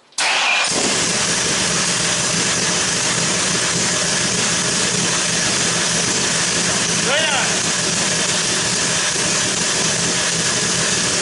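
A car engine fitted with Accel Gen 7 EFI cranks and fires after a moment of quiet, then settles into a loud, steady close idle for the rest of the stretch, with a faint squeal partway.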